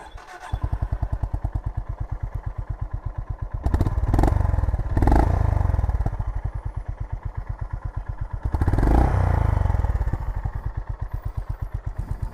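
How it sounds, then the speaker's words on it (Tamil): A Honda CB350 motorcycle engine starts and settles into a steady, thumping exhaust idle. It is revved twice, and each time the exhaust swells louder before dropping back to the even beat. No one speaks. "ஸோ இப்போ என்ஜின் வந்து ஸ்டார்ட் பண்ணி பார்த்துருவோமா?"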